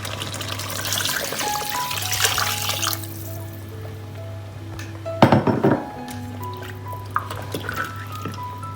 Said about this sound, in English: before adding in my water